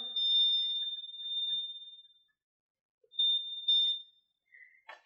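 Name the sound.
earbud locator high-pitched beeping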